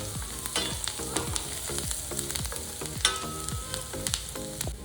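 Finely chopped garlic fries in oil toward golden brown, a close sizzle under rhythmic utensil scrapes and taps against the pan, with a few thin ringing tones, no speech.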